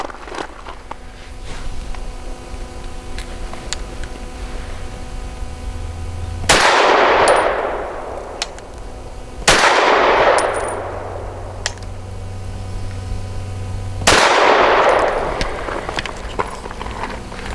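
Walther PDP 5-inch Compact pistol firing 115 grain Hornady American Gunner ammunition: three loud, sharp shots spaced a few seconds apart, each ringing out and fading, with quieter handling noise between them.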